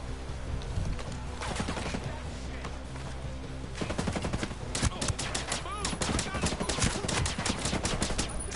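Gunfire in a PS4 shooter game rattles in dense automatic bursts, with sharper clustered shots in the second half, close and loud, with a voice talking over it.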